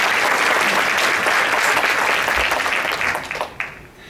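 Loud, dense applause from an audience at a talk on human trafficking in Southern Colorado, steady for about three seconds before tapering off into scattered claps.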